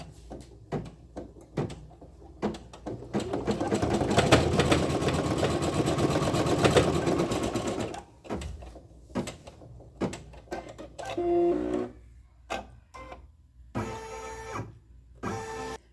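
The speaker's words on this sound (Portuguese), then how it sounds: "E você aperta aqui para iniciar o bordado" An embroidery machine starts stitching a lion design: a loud, steady mechanical whirr runs for several seconds, then stops and gives way to scattered clicks and short motor bursts.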